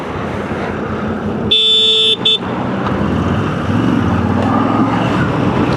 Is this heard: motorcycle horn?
yes